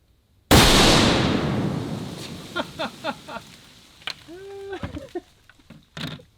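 A single deafening muzzle blast from a .50 caliber rifle fired outdoors cracks suddenly and close, then rolls away in a long fading echo. Faint rustling and brief voices follow.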